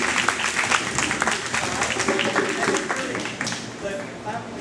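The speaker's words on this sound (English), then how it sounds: "The clapping is all for you guys" After a group drumming session at a health rhythms event, the audience breaks into loud, dense clapping with some crowd murmur, steady for several seconds before thinning out.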